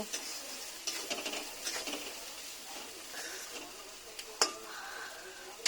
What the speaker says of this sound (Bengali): সুন্দর করে মশলাটা কষায় নেব।